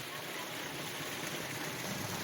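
Water pours steadily down Karantha Malai falls beside a hillside Ayyanar temple, a close, continuous broadband rush with no break or change in loudness.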